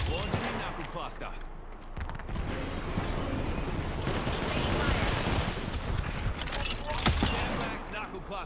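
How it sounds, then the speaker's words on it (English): Video game gunfire as a Knuckle Cluster goes off: dense, rapid bursts of small crackling blasts pile into a continuous clattering barrage, with sharper pops standing out near the middle and the end. "Stand back, Knuckle Cluster's firing."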